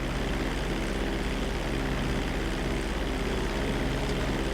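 A propeller airplane in Grand Theft Auto V drones at full throttle during takeoff, a loud, steady engine hum with a buzzing pulse that holds constant throughout, with no speech.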